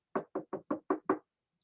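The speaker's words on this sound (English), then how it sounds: "she heard a knock on the door" Six quick, evenly spaced knocks on a door, crisp and close, with silence around them.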